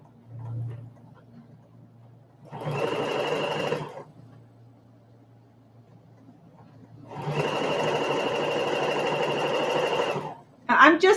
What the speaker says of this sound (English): I'm just stitching close to the edge of the hem.